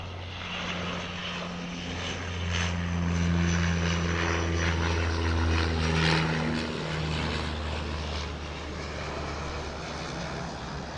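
A Dash 8 turboprop airliner arriving at Auckland Airport from Nelson: a steady propeller drone with tonal hum that swells slightly then eases off, heard from a moderate distance and without talk.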